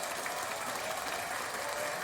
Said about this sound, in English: that applause button goes for a while